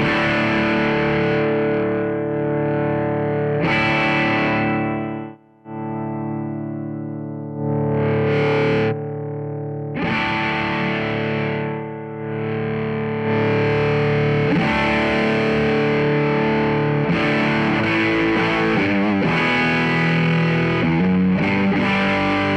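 An electric guitar runs through a Diamond Cornerstone overdrive pedal, producing thick, heavily driven chords and riffs with a couple of brief silences, loud and close with no speech.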